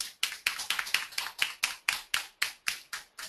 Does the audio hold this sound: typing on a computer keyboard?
no